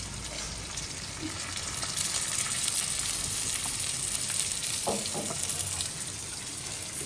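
Cumin, garlic paste and chili paste frying in hot oil, a loud continuous sizzle close up with occasional stirring scrapes and small pops throughout.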